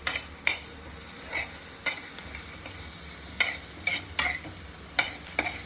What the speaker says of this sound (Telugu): సో దీన్ని బాగా సాటే చేసుకుందాం.